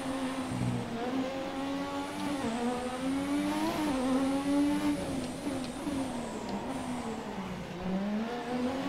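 A McLaren MP4/4 Formula 1 car from the F1 2017 racing game laps Monaco, its engine note screaming loud and close as it rises and falls through gear changes and corners for the whole stretch.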